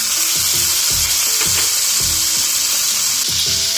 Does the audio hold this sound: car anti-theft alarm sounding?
no